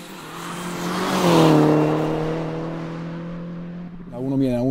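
A light Fiat Uno with a swapped 1.9 turbo diesel spins its wheels in fourth gear, the engine droning loud and steady as it rises and falls, ending in a brief higher wavering whine.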